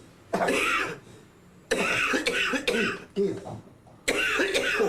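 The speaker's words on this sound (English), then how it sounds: "Cough, cough, cough." Several harsh coughs in short bursts, separated by brief pauses, close and loud.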